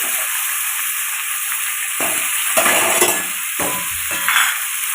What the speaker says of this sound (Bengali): তাহলে মাছটা ভেজে নিক